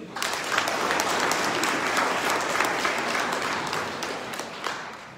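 A church congregation at a Sunday Lenten Mass bursts into sustained applause lasting several seconds, dense and even before tapering off gradually.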